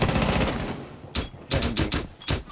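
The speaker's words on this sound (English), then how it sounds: "He's firing a suppressed pistol the whole fucking day." Suppressed pistol fire in a ranked multiplayer shooter: several short, sharp muffled cracks arrive in a loose cluster, spaced irregularly over a low game ambience, moderately loud and close.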